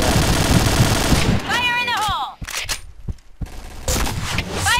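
Rapid automatic gunfire bursts from the shooter game Point Blank, loud and close, with a rising whine and several sharp separate shots, followed by a short quieter stretch and another burst of fire.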